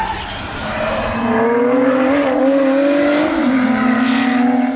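A Lotus Exige Sport 410 on a track, its engine droning loud and close, the pitch wavering as the car slides through a corner under steady throttle.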